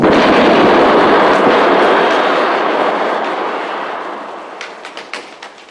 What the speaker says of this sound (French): la déflagration m'a un peu secoué